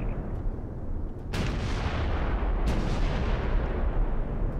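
Sustained heavy gunfire in the tactical shooter game Ghost Recon Future Soldier, a dense, loud roar of shots with sharp bursts near the start and middle, continuing without pause.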